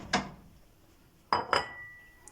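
Plate fetched from a kitchen stack, three sharp ceramic clinks and clatters, one alone and then two close together, near and fairly crisp against a quiet room, with a faint ringing tail.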